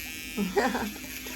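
A steady electric buzz from a nail drill fitted with a bit during a men's pedicure, whining close by with slight pitch shifts as it touches the nail; a voice may murmur faintly underneath.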